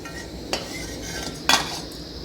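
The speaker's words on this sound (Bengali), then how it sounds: "বড়াগুলো এবার আমি নামিয়ে নিচ্ছি সবগুলো" Two distinct metallic clinks of a utensil against the pan ring out as fried masoor dal fritters (dal bora) come out of the hot oil, over a steady low background murmur.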